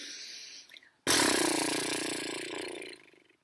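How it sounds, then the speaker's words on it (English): A long, buzzy lip trill exhale, the horsey breath done as breath work, bursts in loud after a brief quiet intake and rattles steadily for about two seconds before fading out. "The horsey breath is what we're going to do."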